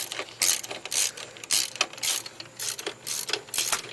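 A hand ratchet tightens a part under the hood of a Subaru Baja with a series of close, sharp clicking bursts in an uneven rhythm of repeated short strokes. No one talks over it.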